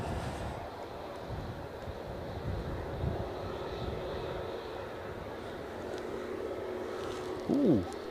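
A departing airliner bound for Budapest at Edinburgh Airport during Storm Amy, with a steady engine roar mixed with strong wind, fairly distant and even, plus a brief louder thump near the end.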